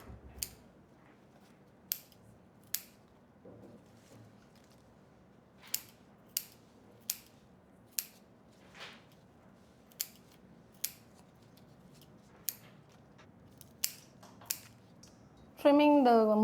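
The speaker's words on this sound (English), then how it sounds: "Trimming the morning glory, it depends on the texture of the vegetables." Scissors trim morning glory vegetables for Hakka Chinese home cooking in a kitchen: a series of crisp, close snips comes at an irregular pace against a quiet room, and a voice starts speaking right at the end.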